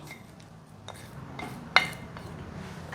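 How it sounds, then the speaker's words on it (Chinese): Mashed potato and stir-fried filling go into a large mixing bowl, with a single sharp clink of a utensil against the bowl standing out briefly over an otherwise quiet kitchen background. "把刚刚炒好的料放进大的调理碗里面， 把马铃薯泥放进来"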